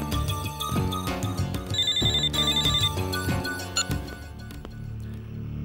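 A telephone rings with a melodic electronic ringtone, loud and close, playing a bright repeating tune for about five seconds with no voices.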